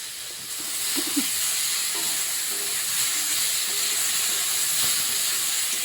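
Vegetables frying on medium flame in a pan with salt and turmeric, a steady close hiss and sizzle with occasional faint crackles, no talking.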